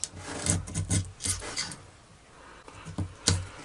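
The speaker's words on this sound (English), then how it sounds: "And I chisel this out just in the thickness of the" Hand chisel cutting out a slot in wood for a marking gauge, a series of close rasping, scraping strokes in uneven rhythm with a brief pause before a few more cuts.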